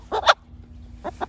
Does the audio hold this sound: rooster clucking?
yes